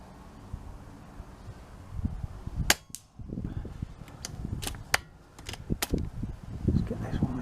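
Long range rifle shots fired in the wind at the Woodend Farm Shooting Complex, several sharp cracks spaced a second or so apart over gusty wind noise and handling sounds.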